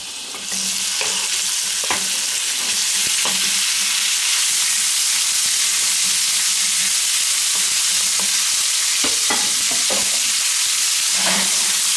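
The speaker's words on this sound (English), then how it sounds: "And then I'm putting the pork right into it." Pork pieces frying in melted butter and oil in a pan give a loud, steady sizzle throughout, with occasional stirring clatters and scrapes.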